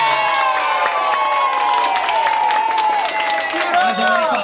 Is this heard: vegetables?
no